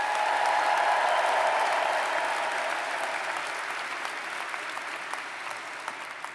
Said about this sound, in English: how about a cheer for those